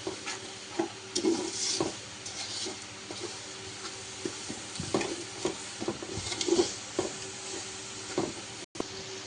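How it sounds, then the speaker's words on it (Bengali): A spoon stirs spices and oil together for beef biryani in a pan, giving a steady close sizzle broken by repeated scraping strokes, with no voices. "তো এবার এটা সুন্দরভাবে মিশিয়ে নিব মশলাগুলা তেল সব কিছুর সাথে"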